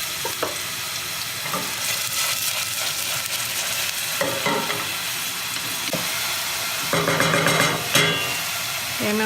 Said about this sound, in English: I want to cook up my garlic and onion until it's nice and soft